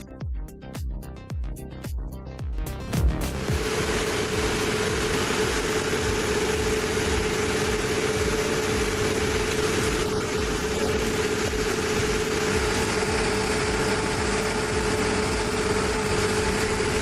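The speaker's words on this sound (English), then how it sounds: "With 750 horsepower, twin shafts, and automated sorting, it recycles entire vehicle bodies with brutal precision." Heavy industrial shredder running steadily, a 750-horsepower DLM Nova 95DK twin-shaft machine chewing through whole vehicle bodies; a few sharp clanks open before a loud, continuous grinding roar with a constant hum.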